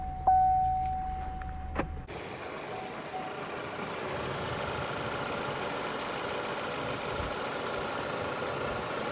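A 2016-2024 Chevy Malibu engine, freshly fitted with new spark plugs, starts after a brief whirr and settles into a smooth, even idle heard up close and steady throughout.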